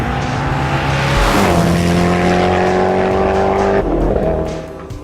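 Koenigsegg Agera R supercar driving hard, a loud, close engine roar that sweeps up through rising gear notes, drops sharply at a shift, then climbs again before easing off near the end.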